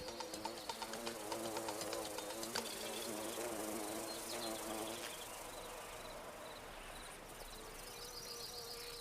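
Bumblebees buzz around foxglove flowers in a garden, a steady close insect drone with wavering pitch, layered with chirping background insects and no talk.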